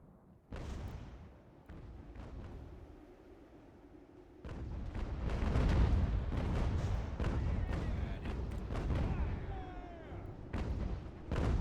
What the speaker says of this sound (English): Cannons are putting in some serious work.